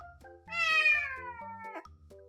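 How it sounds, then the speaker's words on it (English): A kitten lets out a loud, drawn-out meow close by, rising and stretching over a second or so, with shorter chirping cries just before and after in a quiet room. "I think the cat is calling its best friend,"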